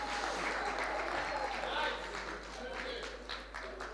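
Workshop audience clapping for a prize winner at a business workshop in Galeshewe, a steady spread of applause filling the room for about four seconds, with speech mixed in.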